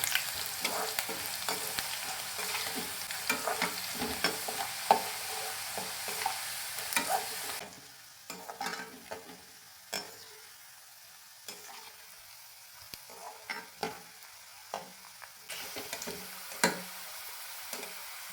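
Bitter gourd chips fry in hot oil with a dense, bright sizzle that fades to a quieter crackle partway through, broken by scattered clicks and scrapes from stirring.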